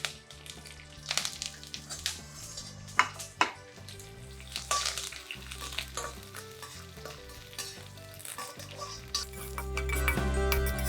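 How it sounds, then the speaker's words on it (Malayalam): Crushed cashew nuts fry as a garnish in a pan alongside dried red chillies and curry leaves for a Kerala chicken kanthari, with a steady sizzle broken by close stirring scrapes and clinks, building louder at the end. "അത് നമുക്കൊരു ഗാർണിഷിന് വേണ്ടിയിട്ടാണ് നമ്മൾ ഫ്രൈ ചെയ്തെടുക്കുന്നത്."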